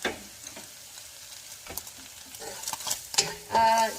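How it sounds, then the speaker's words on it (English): Soy sauce and sugar stirred in a frying pan for stir-fried bean sprouts with tofu: soft scraping and clicks of a utensil over a low sizzle, swelling into a louder hiss near the end, with no talking. "And then you stir it a bit. So we are you stir it until it's dry a bit"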